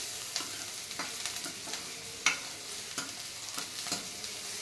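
Chopped onion sautés in a pan for Maggi noodles, a soft steady sizzle with a regular series of spatula scrapes and taps roughly every half second, close but quiet, with no speech.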